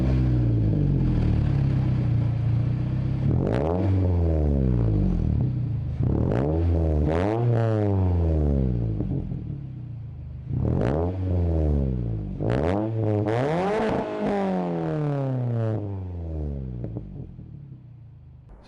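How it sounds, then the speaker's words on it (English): Worn car's exhaust with a DC Sports universal muffler and a high-flow Vibrant resonator, revved in several sharp bursts that rise and fall, loud and close, with no one talking. "I have a DC Sports universal muffler on this car, and I have a high flow vibrant resonator"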